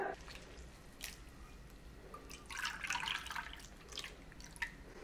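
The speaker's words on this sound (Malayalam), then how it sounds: "ഞാനിപ്പോൾ 2 കപ്പ് ഓറഞ്ച് ജ്യൂസ് ഒഴിച്ചു കൊടുത്തിട്ടുണ്ട്." Freshly squeezed orange juice is poured over nuts and dry fruits in a pan for plum cake, faint close-up drips and liquid splashes with a soft trickling burst midway, heard quietly against a low background.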